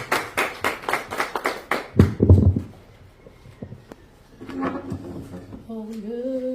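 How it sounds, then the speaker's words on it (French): An audience gathered for a performance of the national anthem claps in a short, rhythmic burst of roughly ten distinct claps, followed by a thud, a quiet stretch, and then a voice starting up. "Sur vos applaudissements, s'il vous plaît."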